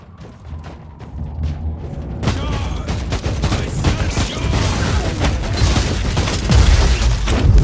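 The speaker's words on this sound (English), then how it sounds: "Threw a grenade." Grenade blast and rapid gunfire in the Warhammer 40,000: Inquisitor – Martyr video game, starting with a few sharp shots, then a sudden loud burst after which dense, continuous firing and impacts rumble on steadily to the end.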